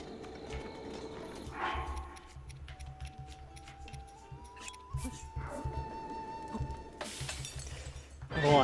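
Horse hooves clip-clop in Zelda: Breath of the Wild, a steady galloping rhythm under game music and ambient effects, fairly soft.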